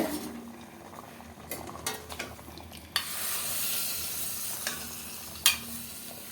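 Hot oil poured over mutton gravy bursts into a loud, steady sizzle that carries on without a break, with a few clinks and knocks of a pot and utensil nearby and no one talking.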